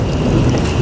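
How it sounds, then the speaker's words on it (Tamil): Steady heavy storm rain roars close by on a fishing trip, a dense low rumble of downpour with no talking. "வெளியே பார்த்தீங்கன்னா புயல் மழையே வந்துருச்சு. மழை பெருசாயிடுச்சு."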